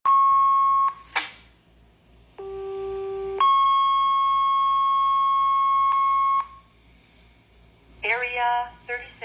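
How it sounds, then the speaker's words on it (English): Fire department pager alert tones sound over a radio scanner as a sequence of sustained steady electronic pitches, each held for a second or more and switching abruptly, followed by a short burst of radio speech at the end. "a lot of the pager systems that sound like this"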